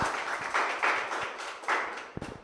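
A church congregation breaks into applause, a dense wash of many hands clapping together in a sustained, swelling burst that rises and dips over a couple of seconds, with a few sharper individual claps near the end.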